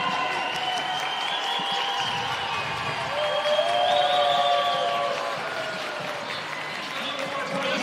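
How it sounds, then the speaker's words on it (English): Crowd at a college wrestling dual meet between West Virginia and Utah Valley roars and cheers after a takedown, a broad sustained swell of voices with whistles, peaking midway while an announcer talks over it. "The crowd's going wild."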